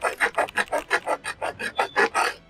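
A hand saw cutting through a 1.25 inch PVC pipe, about a dozen rapid, even rasping back-and-forth strokes, close and loud with no talk.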